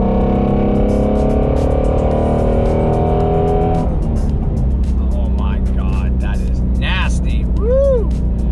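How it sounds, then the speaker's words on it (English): A 2021 Ford Mustang Mach 1's flat-plane-crank V8 revs loudly up through rising pitch for several seconds, then drops off as other sounds and a brief voice come in near the end. "Let's just listen to the flat plane crank and let it do the talking for me."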